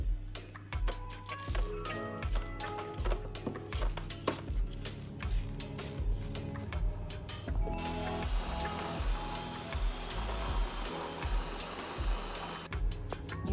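A food processor blitzes a thick vegan, gluten-free falafel mixture in close, rhythmic, chunky bursts, the blades knocking and churning steadily, then settling into a denser whirring grind toward the end, with no talk.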